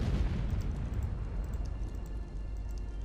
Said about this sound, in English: Wow, that's a big explosion. I like the explosion.